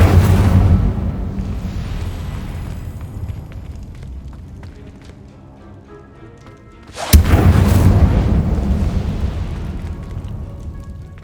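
Incendio fire spell cast in Hogwarts Legacy: a loud whooshing burst of flame that fades over several seconds, then a second sharp, forceful blast of fire erupts and roars on.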